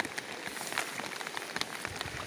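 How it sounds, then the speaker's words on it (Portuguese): Heavy rain pours down on a farm smallholding during a severe storm, a steady dense hiss of drops with scattered louder splashes, alone and at moderate level. "Tanta chuva que deu."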